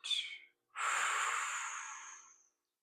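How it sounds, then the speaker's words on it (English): A person takes a short sharp breath in, then breathes out deeply in one long, close, airy exhale lasting nearly two seconds and fading away, during a guided breathing exercise. "Breathe your air all the way out."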